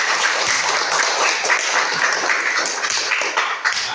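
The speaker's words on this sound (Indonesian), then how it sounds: "Kita berikan tepuk tangan bagi kita semua." Classroom of students applauding together after group discussions, a dense steady clatter of many hands clapping for about four seconds, close and fairly loud.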